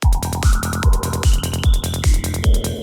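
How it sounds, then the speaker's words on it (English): A stuttering, glitchy electronic loop with a deep kick hitting every half second while bright synth tones repeat and jump upward in pitch, no voices. "I have this very basic beat repeat preset"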